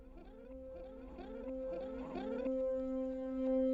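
A reversed electric guitar tail used as a riser, a swelling effected tone with smeared echoes that builds in volume and settles into a sustained ringing chord, heard alone.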